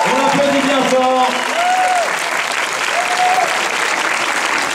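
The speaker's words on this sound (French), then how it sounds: "On applaudit bien fort." Loud, sustained audience applause at a French Lion King voice-cast event in Paris, a dense roar of clapping and crowd noise that carries on throughout, with a voice singing or calling out briefly near the start.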